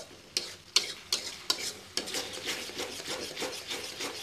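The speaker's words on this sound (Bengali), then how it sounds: "মিডিয়াম হিটে মশলা কষিয়ে নেব, নেড়ে দিচ্ছি।" Spice paste for a katla fish curry fries in a pan over medium heat; a handful of sharp scraping stirs land in quick succession before settling into a continuous crackling sizzle, close and fairly quiet.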